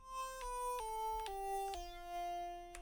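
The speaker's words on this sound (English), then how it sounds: "And lastly, the I don't know lead." The "I don't know" lead preset from Serum, played in FL Studio, produces a sustained buzzy synth line that glides down through five or six connected notes with short bright attacks between them, heard alone and fairly quiet.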